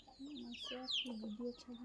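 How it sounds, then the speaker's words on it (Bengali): A large chicken of about three kilos clucking nearby in a short run of throaty, repeated clucks, fairly faint and close. "অনেক বড় মুরগি বটে, প্রায় 3 কিলো হবে।"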